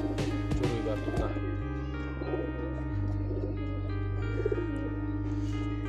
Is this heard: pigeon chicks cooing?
yes